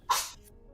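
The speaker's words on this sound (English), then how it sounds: "Sorry, cat Sneezy sneezing." A cat gives one quick, sharp sneeze, close and fairly loud, a brief hissing burst that fades within half a second.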